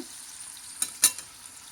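Quiet oil sizzle as green chillies, cumin, garlic and ginger fry in a pan for palak paneer, a soft steady hiss broken by two sharp stirring clicks near the middle.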